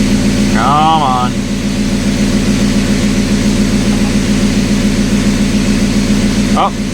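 A small engine that stays put while being revved drones steadily and loudly with a throbbing, even tone, with brief voices briefly over it near the start and end.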